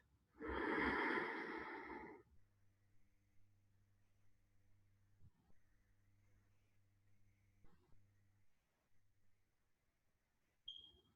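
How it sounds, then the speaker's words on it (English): A single deep, loud inhaled breath in Tummo meditation, near and strong for about two seconds, followed by quiet room hum with a few faint rustles. "Take a deep breath."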